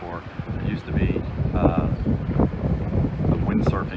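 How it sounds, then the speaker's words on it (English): Strong wind buffets the microphone on the windy island of Aruba, a steady loud roar and rumble, with a person talking over it. "If you can't hear, it is very windy on the island."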